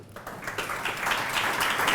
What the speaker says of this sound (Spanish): pido por favor un fuerte aplauso para Abilio